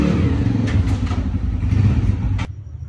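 A motorcycle engine rumbles loudly up close in a village, a steady low drone with faint rattles, then cuts off abruptly near the end, leaving quiet.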